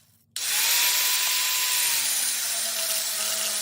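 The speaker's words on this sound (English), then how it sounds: "cut that weld off right there" A power tool cutting off a weld on a Baja trike build starts abruptly and then runs loud and steady with a bright, harsh whine, close up and without talk.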